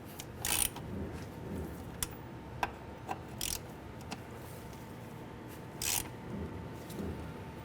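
Ratchet wrench snugging up 17 mm bolts on the front strut of a 2003-2011 Honda Element, quiet irregular clicks and short ratcheting bursts at close range, with no talk.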